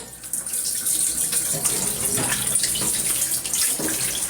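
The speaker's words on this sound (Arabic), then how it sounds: "عايز نخش ناخد دش." Water runs continuously from a shower, a steady close hiss and splash that fills the whole stretch with no voices.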